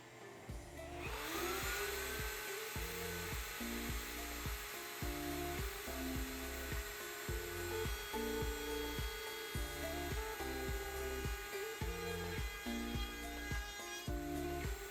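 A router runs with a rhythmic, pulsing whine and chatter as it rounds over the edges of a wooden air vent, loud and close throughout after a sharp start.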